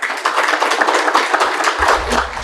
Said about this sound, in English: we should have another round of huge applause for Belsare sir